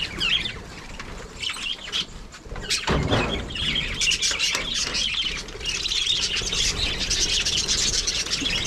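Many small birds kept in an enclosure chirp and tweet continuously at close range, a dense overlapping chatter with occasional louder squeaks.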